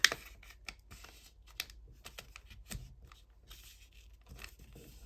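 Paper folded into a small mini coloring book, with soft creasing, light rustles and scattered crisp taps as the sheet is pressed and handled nearby.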